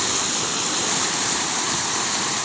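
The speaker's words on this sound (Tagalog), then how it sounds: "Medyo malakas po ang alon nito ka-araw." Strong waves of water rush steadily at a free public bathing spot, a loud continuous broadband wash with no pauses.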